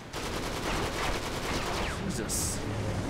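Gunfire from a weapon in the Uncharted 3 video game, a dense burst of rapid shots over game noise, ending with a brief sharp high-pitched burst.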